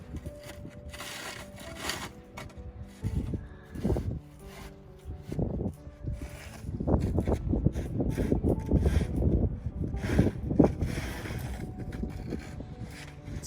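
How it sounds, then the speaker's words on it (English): Gusty wind during a blizzard in Saskatoon, Canada, buffets the microphone with rumbling, uneven surges that grow stronger in the second half, mixed with rubbing and scraping noises. "It's still windy."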